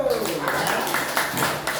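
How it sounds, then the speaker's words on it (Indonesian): A class of schoolchildren claps hands in a dense, rhythmic patter of many claps, loud and close, mixed with children's voices over the clapping. "tepuk tangan dulu"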